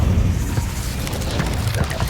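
The Incendio fire spell from Hogwarts Legacy erupts as a loud, steady rumbling blast, low and booming, sustained for a couple of seconds with crackling texture above.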